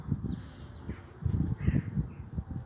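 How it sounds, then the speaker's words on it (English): Rooks and crows caw in open country near a jungle hammock camp, a few rough calls scattered over a steady low rumble of wind or rustling, moderately distant. "that sounds like couple of rooks. I can hear the rooks."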